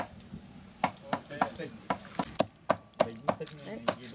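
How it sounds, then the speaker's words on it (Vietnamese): A heavy cleaver-style knife mincing dog meat on a board in a Vietnamese kitchen, giving a steady run of sharp, crisp chops about three per second, close and prominent over faint background noise. "Cái thợ băm kia này phải băm cho giòn vào nhá."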